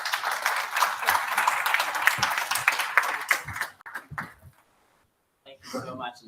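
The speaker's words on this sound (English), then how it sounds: "Please give them a warm round of applause" A conference audience at a financing forum in Cape Town claps for panel members, lively mixed clapping for several seconds that fades out, then brief talking follows after a pause.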